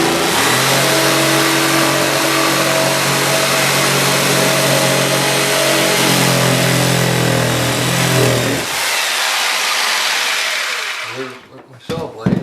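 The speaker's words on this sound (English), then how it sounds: "Now I'm going to take my jigsaw and start cutting on the line if I can." A Black & Decker jigsaw cuts along a marked line, its motor holding a loud, steady buzzing whine for about eight and a half seconds before it abruptly cuts out, leaving only faint handling noise.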